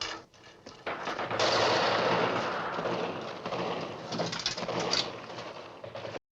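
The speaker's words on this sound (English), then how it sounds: "That's nice shooting, soldier." Gunfire from the 1964 film Dr. Strangelove, a dense burst of rapid shots and clatter layered over a busy battle din, steady and fairly loud with sharper cracks near the end.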